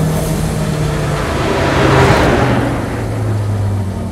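A Kimera EVO37 with a supercharged and turbocharged engine accelerating hard on the road, a loud, steady mechanical roar that swells toward the middle, heard from inside the cabin.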